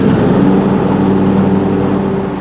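Steady drone of a John Deere X300 riding mower engine running at full throttle, loud and close, holding an even pitch throughout without any voices.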